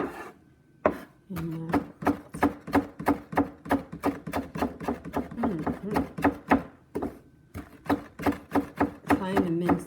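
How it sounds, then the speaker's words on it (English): Knife chops steadily on a cutting board, mincing fresh herbs for skillet corned beef hash, a fast run of sharp close taps broken by short pauses while a person talks intermittently over the work. "Trying to mince the herbs pretty finely."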